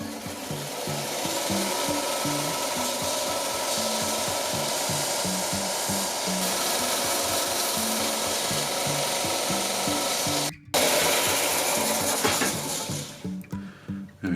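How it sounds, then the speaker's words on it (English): A kayak sail mast is sanded smooth by hand, giving a close, steady rhythmic rasping rub with repeated strokes, a brief pause near the end, then lighter scrapes. "Sanded it off so it's nice and smooth."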